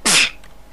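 A single sharp, loud sneeze bursts out close to the microphone, then quickly trails off into quiet.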